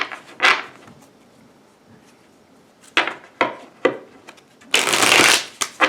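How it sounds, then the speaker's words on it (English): Tarot cards are shuffled in a few separate bursts of crisp, close riffling and slapping, with quiet gaps between them and a longer, louder shuffle near the end. "These do not want to shuffle."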